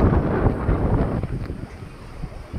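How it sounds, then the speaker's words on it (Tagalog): Strong beach wind roars and buffets the microphone, loud and continuous at first, then easing slightly while still gusting. "Ang lakas-lakas ng hangin."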